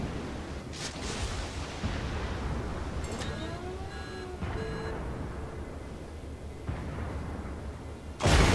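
Booming naval gunfire and muffled explosions in World of Warships thud amid an ongoing battle soundscape, with a few electronic tones and a sharp loud blast at the end.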